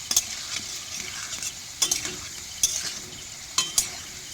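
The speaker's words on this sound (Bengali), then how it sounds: "আলুগুলো ভালো করে লাল লাল করে ভেজে নিচ্ছি।" Potatoes frying in a pan for a simple potato curry, with plain turmeric-free oil giving a soft, steady sizzle and several sharp clinks of a spatula against the pan at irregular intervals, and no voices.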